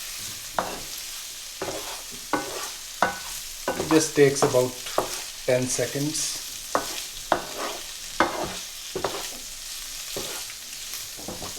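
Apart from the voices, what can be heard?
splash of water added to frying chilies, sizzling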